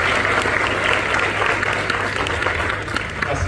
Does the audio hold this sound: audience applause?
yes